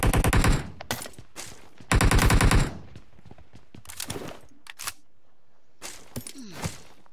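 Gunfire in the PUBG Mobile video game: two loud rapid bursts of automatic fire, then scattered fainter shots and thuds with quieter gaps between them.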